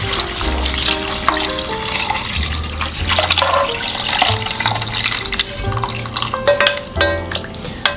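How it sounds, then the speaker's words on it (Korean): Homemade brisket broth poured into a pot of stir-fried seaweed for Korean beef seaweed soup, a steady close liquid gush and splash running the whole time over faint background music, with no one talking. "아까 양지로 국물 낸 국물 여기다 모두 다 넣어주세요"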